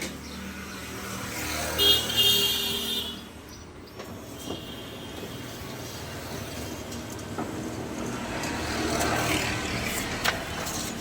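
A photocopier runs a copy with a steady mechanical whir and rolling scan, a brief louder surge early on, then a continuous hum building toward the end with small clicks.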